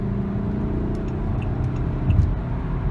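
A 2007 SAAB 9-5 sedan with a turbocharged four-cylinder engine accelerates, giving a steady, smooth low hum heard from inside the car, with a slight swell in engine rumble near the end.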